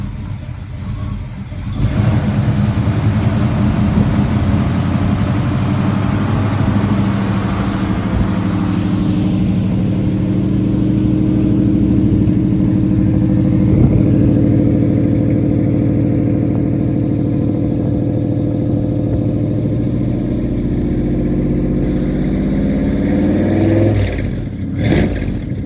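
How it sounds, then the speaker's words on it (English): An upgraded Camaro engine idling cold at about 600 RPM, a steady, loud, close mechanical rumble that holds through the clip before a brief rev near the end. "I'll let you listen to it. Idling at like 600 RPM."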